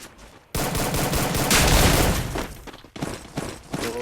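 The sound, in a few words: gunshots in a shooter video game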